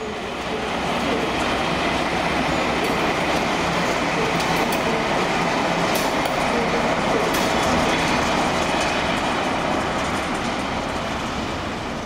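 Class 218 diesel locomotives run around their train, a steady loud rolling rumble of wheels and engine with occasional rail clicks, continuous and close throughout.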